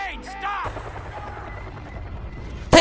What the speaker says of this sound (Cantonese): take out 個直升機